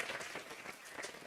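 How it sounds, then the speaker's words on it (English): Quiet, steady applause from an audience at a book launch event, greeting the chief guest, a municipal commissioner; the clapping blends into a soft, continuous wash. "A big round of applause to ma'am."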